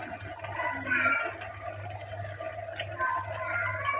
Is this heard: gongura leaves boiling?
yes